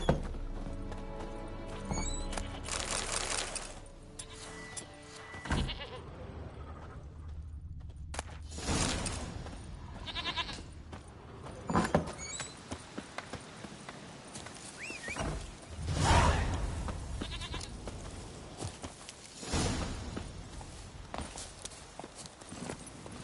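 Horse in The Witcher 3 video game, with rhythmic clip-clop hooves that come and go and occasional neighs and snorts, set among varied game sounds at moderate loudness.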